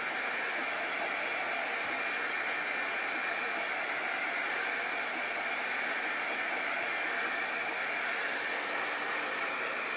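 A hair dryer blows steadily and loudly over a chalk paste craft piece, a constant airy roar with no break for the whole stretch.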